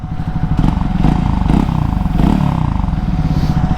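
A Triumph Scrambler 350 X motorcycle runs close by, its exhaust giving a loud, steady thumping pulse with slight rises in revs, and no voices over it.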